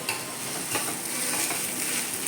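Food fries crisply in oil on a flat griddle pan, a steady close sizzle with a few scraping stirs, moderately loud and without talk.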